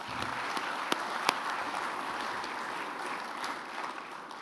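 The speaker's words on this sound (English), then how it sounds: "I'd just like to ask for a round of applause," Conference attendees applaud after a speech, a soft, even spread of distant clapping across a large hall, with a couple of louder nearby claps early on and a steady patter continuing underneath.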